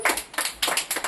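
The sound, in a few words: children clapping in class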